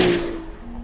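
A Ferrari 296 GTS sliding in one last skid, a loud, close burst of tyre scrub and engine roar that starts strong and eases over under a second.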